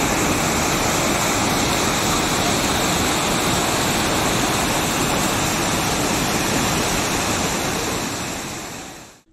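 Floodwater from rivers and streams overflowing after heavy rain in Thuvvur, Kerala, roars as a steady, loud, broadband rush that holds constant for about nine seconds before cutting off abruptly.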